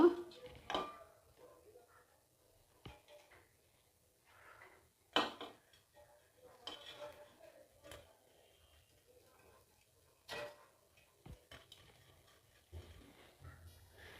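Dudh chitoi pitha cakes are lifted one by one out of a pan with utensils, giving sparse metallic clinks, taps and scrapes separated by quiet gaps. A voice talks softly at moments between the knocks.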